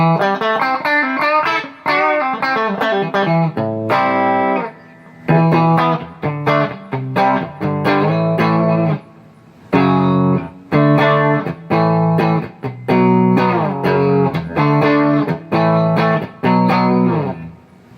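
Electric guitar played through a Vox Bruno TB18C1 amp with the mid boost on, a punchy, mid-heavy tone, strummed chords and riffs in bursts with short pauses, loud and close, no talking.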